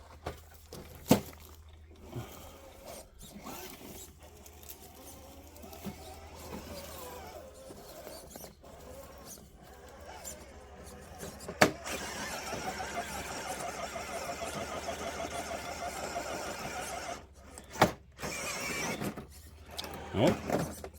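RC scaler crawler on Duratrax tires spinning against an obstacle, a steady motor whine and tire scrabble that builds louder toward the end with a few sharp knocks, close by.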